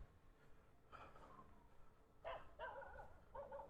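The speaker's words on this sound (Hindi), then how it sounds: "नीचे तो कुत्ते भौंक रहे हैं," Several dogs bark off in the distance below a dark outdoor path, giving faint, scattered yips and barks over a steady noisy background.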